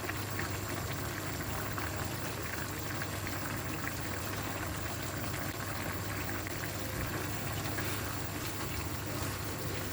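Creamy chicken and mushroom sauce bubbles steadily in a pan over high heat, a dense, continuous simmering hiss with no talk, holding at an even level throughout.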